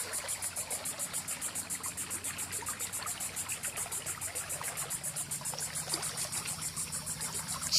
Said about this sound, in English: we have ourselves a nice little waterfall